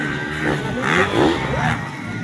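Motorcycle engine revving and surging during a women's national motorcycle race, a steady loud drone that swells and fades as bikes pass, with crowd noise in the background.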